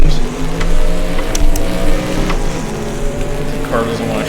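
A racing car engine from the 1973 Buckeye Cup in the video game Lost Race, roaring loud and close with steady tones and small shifts in revs, as if it is struggling to change gear.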